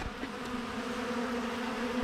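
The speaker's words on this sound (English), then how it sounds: "These bees are hitting this feed" Bees hum in a thick, steady drone up close, many insects buzzing together without pause around feed.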